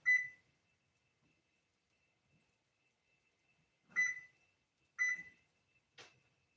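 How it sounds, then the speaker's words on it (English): A kitchen timer sounds clear, sharp electronic beeps in a quiet kitchen, one at the start, then two close together a few seconds later, followed by a fainter click. "Timer."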